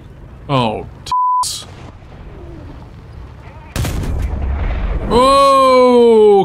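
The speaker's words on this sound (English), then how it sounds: "I'm gonna have to beep out that word I said there" A censor beep cuts across a word in a tank video game. Speech is heard around it, along with gunfire and artillery blasts, then a loud engine-like tonal drone near the end.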